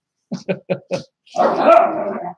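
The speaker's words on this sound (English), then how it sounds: "Excited puppy going on in the background." An excited puppy lets out four short sharp yips in quick succession, then breaks into a longer drawn-out whimpering whine, close and loud against an otherwise quiet background.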